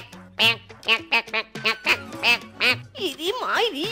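A cartoon duck quacks in a fast series of nasal, voice-like calls, loud and close, ending in a longer warbling squawk, in a Bengali fox cartoon.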